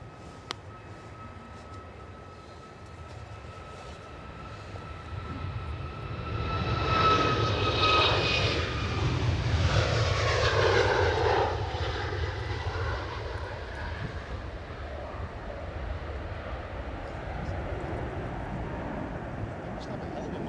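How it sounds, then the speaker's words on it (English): A Turkish Airlines Boeing 777 flying high overhead on its JFK to Istanbul route, heard from near Edinburgh Airport as a broad, distant jet roar that swells through the middle and slowly fades under steady wind noise. "There's another Turkish airline above us. 777 to Istanbul"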